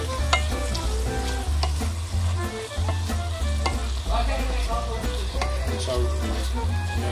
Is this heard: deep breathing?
no